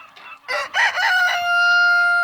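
Rooster crowing on a pastured poultry farm with Leghorn, Australorp and Rhode Island Red chickens, a single loud, close crow rising after a few short clucks, with no talking.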